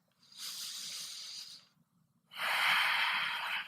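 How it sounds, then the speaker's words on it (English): Two long, deep breaths during a yoga class, a steady airy inhale followed by a louder, fuller exhale, close and clear with no talking. "Take a deep breath in and exhale"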